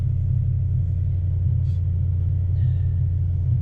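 A supercharged 1UZ V8 in a two-wheel-drive Toyota Hilux with a Harrop HTV1900 supercharger and large throttle body, held at high RPM: a loud, steady, close engine drone without change, with a faint whine briefly above it.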